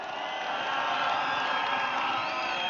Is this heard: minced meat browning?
no